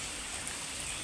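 Heavy monsoon rain pours down outside a house during flooding, a steady dense hiss with no breaks, moderately loud and without voices.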